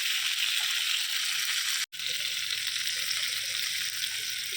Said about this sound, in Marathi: आपले फिश मस्तपैकी फ्राय होत आहे, मस्त कुरकुरीत झाले.